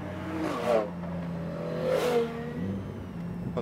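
A Lamborghini's engine hums and swells in two short revving surges from inside the car, with a steady low drone between them.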